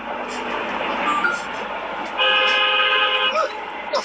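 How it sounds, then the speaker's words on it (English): A car horn honks in steady traffic during a drive, a sustained blaring blast lasting over a second above the continuous road and engine rumble, followed by a short second toot. "Someone honking at you?"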